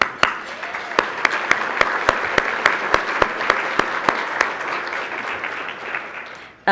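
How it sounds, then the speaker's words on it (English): An audience at a public policy talk on civic engagement applauds steadily. Sharp, evenly spaced claps from one nearby person stand out above the softer crowd clapping throughout. "Take a minute to applaud them and thank them."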